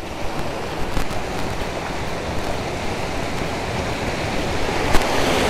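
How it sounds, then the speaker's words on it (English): Big ocean waves off Hawaii make a constant, dense wash of surf, loud and close, with a few sharper splashes breaking through; no one speaks. "I don't like throwing in these big waves"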